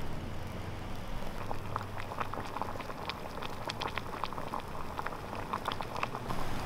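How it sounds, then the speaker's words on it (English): Water bubbles and crackles at a steady simmer on a soup-can rocket stove with a perlite-insulated riser, soft and close, with irregular popping bursts over a low background hum. "Been boiling for 5 minutes or so."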